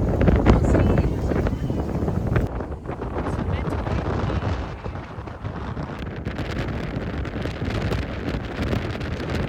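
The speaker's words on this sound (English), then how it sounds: "It's still really windy." Strong gusts buffet the microphone on a crowded private-island beach, a loud rumbling roar that drops briefly and then keeps blowing with rustling, while people can be heard in the background.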